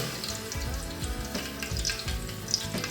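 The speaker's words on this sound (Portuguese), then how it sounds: "Vou fritar as minhas coxas, vou dourar elas e vou reservar" Chicken thighs, marinated in wine seasoning, frying in plenty of olive oil in a pan: a continuous close sizzle and crackle with scattered pops, steady throughout with no talking.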